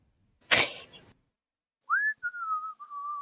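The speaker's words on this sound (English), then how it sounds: "Joe whistles." A person whistles a short rising note followed by a long, slowly falling tone, clear and close, after a brief rustling burst and a moment of silence.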